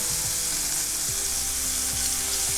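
Clams fry in a hot pan, a dense continuous hiss and sizzle close up with faint low tones underneath and no talking.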